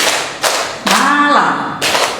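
Adults play a fast rhythmic hand-clapping game in a group session: a few sharp, loud claps spaced unevenly, with a voice calling out between them.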